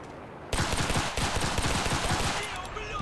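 Rapid automatic gunfire in the Enlisted video game bursts in after a brief quiet moment and continues as a dense, loud rattle of closely spaced shots, with a faint voice underneath.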